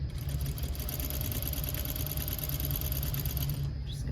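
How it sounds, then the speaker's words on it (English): A sewing machine runs continuously while stitching a trouser hem over pins, a close, steady whirring motor hum with a rapid needle rhythm that stops abruptly at the very end. "Obviously I sew over my pins"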